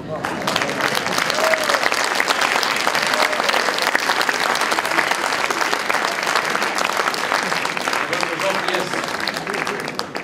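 Dense, loud audience applause sustained evenly for about ten seconds at a festival tribute ceremony, a large crowd clapping continuously with no pauses.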